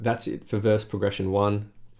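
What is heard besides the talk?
No distinct noise like a dog, phone or traffic.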